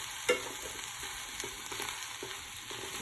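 Crumbled vegan sausage patty frying in a pan, a soft steady sizzle with a single light clack near the start, quiet and close with no voices.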